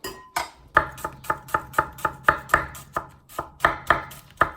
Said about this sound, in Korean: 이런 데 들어간 양파는 생으로 먹기 때문에 최대한 이렇게 얇게 썰어야 돼요.